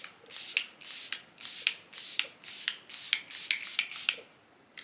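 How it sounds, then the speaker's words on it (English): A makeup setting spray is pumped in quick repeated hisses, about a dozen short bursts in a steady rhythm, close and crisp with no talking. "We get our setting spray."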